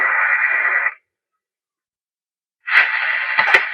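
Restored Hallicrafters S-40 radio receiver hissing static, a loud burst of noise that cuts out for almost two seconds and then returns, with a couple of sharp crackles near the end.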